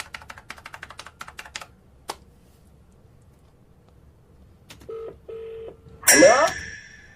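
Quick keypress clicks tap out a rhythm, then after a pause come a few short electronic dialing beeps, followed by a brief sweeping burst.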